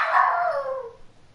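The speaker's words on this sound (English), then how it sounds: "Is that his dog?" A dog gives a single drawn-out howl that slides downward in pitch and fades over about a second, heard fairly clearly and alone.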